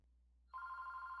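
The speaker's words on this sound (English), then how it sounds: "and the phone is ringing." After a brief quiet moment, a telephone in the Audiotool music software starts ringing with a steady electronic trill that continues to the end.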